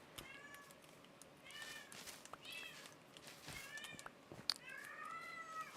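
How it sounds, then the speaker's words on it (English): A cat meows repeatedly, several drawn-out, rising and falling calls spread across a few seconds, set against a quiet, busy background of game sound. "Fucking loud ass cat."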